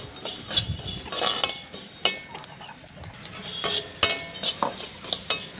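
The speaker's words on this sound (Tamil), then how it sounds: "கொத்தமல்லி நல்லா மணம் வர வரைக்கும் வறுத்து எடுத்துக்கலாம்." Coriander seeds are roasted in a pan and stirred with a metal spoon, giving a run of close, irregular scraping and clinking strokes over a faint dry rustle, with no talking.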